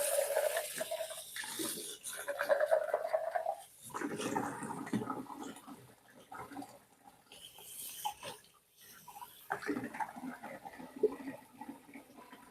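Water runs and splashes steadily as a container is rinsed out in a home kitchen during baking, with a few brief pauses in the flow.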